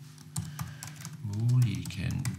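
Clicky computer keyboard typing during a Danish forestry mapping webinar, a quick run of light keystrokes heard under a man's steady speech.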